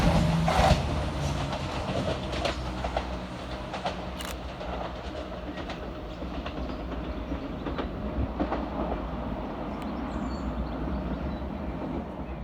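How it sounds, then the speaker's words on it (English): A ScotRail train passes fast through North Queensferry station on the Fife Circle, with a sustained, loud rumble and rhythmic clatter of wheels over rail joints throughout. "Passing fast through the station for Scotrail, some 7 minutes late is 174-70"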